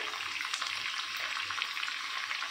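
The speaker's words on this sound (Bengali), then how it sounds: "এবার আমাদের আলুটা লাল লাল করে ভাজা হয়ে গেছে।" Potato pieces fry in mustard oil with a constant soft sizzle and faint crackles, close and fairly quiet, with no one speaking.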